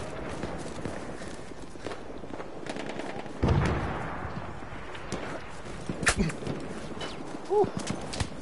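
Machine gun fire in a Battlefield 1 battle, heard as scattered sharp bursts among footsteps and other game noise, with a louder burst around the middle and a few more toward the end.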